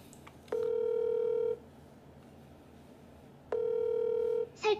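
A phone call that fails to connect: two long steady ringback tones about three seconds apart, fairly loud and close, with quiet background noise between them and a brief chirp at the end.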